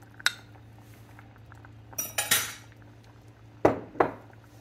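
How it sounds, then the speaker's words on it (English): Metal spoon scraping and clinking against a pot of potato soup being stirred, several distinct clanks spaced out over a few seconds, close and fairly loud, with no talk. "And now we're going to stir this really good and get this in here."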